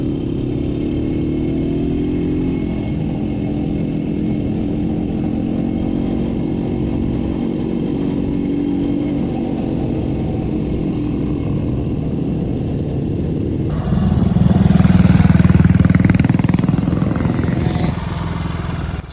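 A classic Bantam motorcycle rides off, its small engine droning steadily nearby, then a louder, rougher roar surges for several seconds before easing back, with outdoor wind noise throughout.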